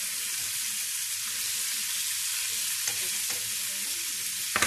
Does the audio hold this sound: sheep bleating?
no